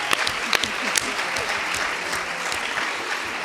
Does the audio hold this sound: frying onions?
no